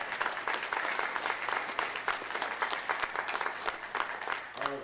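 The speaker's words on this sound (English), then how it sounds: "Let's give him another hearty round of applause." An audience at a veterans' forum applauds warmly and steadily, a dense patter of many hands that carries on throughout at a moderate distance.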